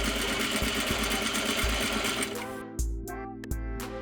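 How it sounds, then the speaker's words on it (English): A sewing machine edge-stitches along a trouser fly front seam, a loud, close, rhythmic mechanical chatter running continuously, then dropping to a few separate clunks as the stitching stops. "Sew an edge stitch along your fly front seam."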